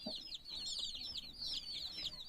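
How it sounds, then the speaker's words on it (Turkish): Tiny Leghorn chicks cheep continuously in a rapid, high-pitched chorus, close by and fairly faint. "Ufacık yeni civcivler."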